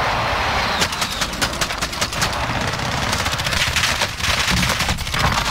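Rapid automatic gunfire fills a first-person shooter match, loud dense bursts of repeated shots crackling close, with brief gaps between volleys and no talk over it.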